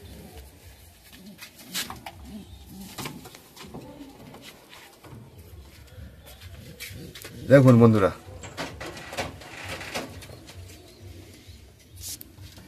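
Fulshira pigeons giving a short burst of low, throaty cooing, close by. Someone talks on and off around it, with handling knocks and rustling nearby.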